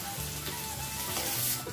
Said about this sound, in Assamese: প্ৰথমতে মই পিঁয়াজখিনি দি ল'ম পিঁয়াজখিনি অকণমান ৰবচুৱা হোৱালৈকে ভাজি ল'ম